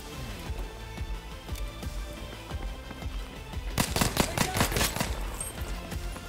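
Pistol gunfire in the video game Battlefield 5, heard as a burst of loud, sharp shots in quick succession near the end, over a busy background of distant battle noise and game music.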